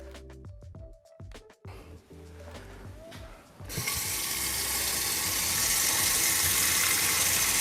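Tap water gushes into a metal pasta pot, starting after some clattering and clinks of kitchen handling, then a loud, steady broadband rush that continues to the end.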